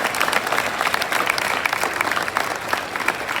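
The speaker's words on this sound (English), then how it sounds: "Give them a big hand clap." A school audience claps steadily for a youth parliament activity, a dense, even patter of many hands held at moderate volume throughout.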